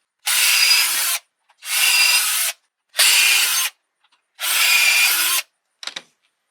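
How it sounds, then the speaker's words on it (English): A power drill boring starter holes into wooden stair treads during a DIY stair repair, four loud close bursts of about a second each separated by short pauses, ending with a brief clatter. "I'm going to put the stairs back in place and drill tap holes or starter holes"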